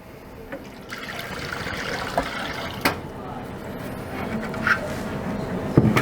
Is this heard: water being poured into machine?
yes